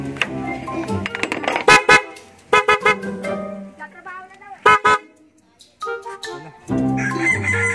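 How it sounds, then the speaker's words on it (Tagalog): Newly installed aftermarket horn on a Toyota Corolla Altis, honked in several loud separate blasts of differing length with gaps between them, close by, with voices speaking between the blasts. "natapos na natin yung installation natin ng horn. Tapos dito sa Corora Altis natin. So, ano natin guys, testing natin. Tutunog ulit."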